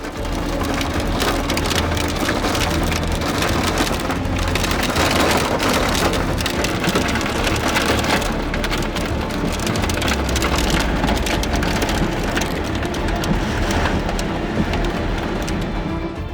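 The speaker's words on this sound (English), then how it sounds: "Soon enough I was engulfed by the downburst and battered by hail and severe winds." Hail and rain pound down steadily during a thunderstorm downburst, mixed with severe wind, in a loud, dense and unbroken roar.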